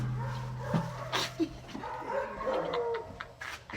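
A dog barks and yips a few times up close, with short whimpering sounds between the barks.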